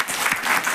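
Brief burst of audience applause at a seminar in Gaya, many hands clapping together in a short, lively, fairly loud patter with no speech over it.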